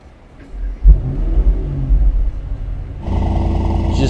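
A 2022 Mercedes SL 63 AMG engine starts with a loud low rumble and flare, then settles into a deep, steady idle heard at close range.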